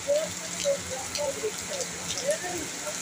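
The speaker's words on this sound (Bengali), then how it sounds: "মুষলধারে বৃষ্টি" Heavy monsoon rain pours down in Kolkata during a thunderstorm, a steady dense hiss that fills the whole stretch, with faint murmuring voices in the background.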